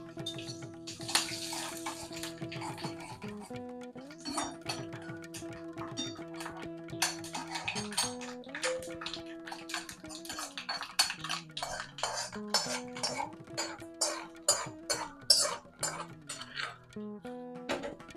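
A spoon scrapes and clinks repeatedly against a pan while milagorai pepper rice is mixed, giving a quiet, irregular series of metallic taps and rustles over a low background hum.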